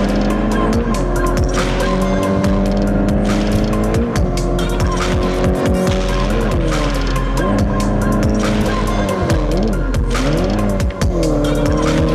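Cars race in Drive Zone Online, a free-to-play open-world mobile driving game, with loud continuous engine roar that rises and falls through gear changes, tire squeals and skids throughout, and no talking.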